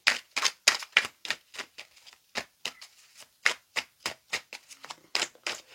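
Tarot cards being cut and shuffled for a reading, a steady run of crisp, close riffling snaps and flicks, clear and alone with no talking.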